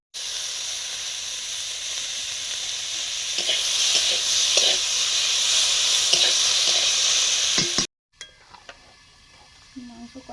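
Meat being sautéed and stirred in a wok, a loud continuous sizzle and hiss with scraping stirs, stopping abruptly near the end and followed by quieter kitchen clatter.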